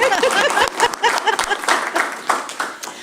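A room at an education committee meeting breaks into a round of applause: dense, loud clapping from many hands that holds steady for a few seconds, then thins slightly toward the end.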